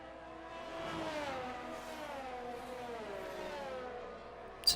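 F1 22 race cars on a warm-up lap in the video game, their engines droning and rising and falling in pitch at a moderate distance, soft and steady, with no talking.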